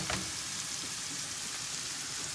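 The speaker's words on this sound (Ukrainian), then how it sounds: "ми в сковороду кинули печерицю, кинули цибульку і моркву, лили олійки, і воно нам хай посмажиться" Mushrooms, onion and carrot fry in oil in a pan, giving a steady, close crackling sizzle like light rain that holds evenly throughout with no talk.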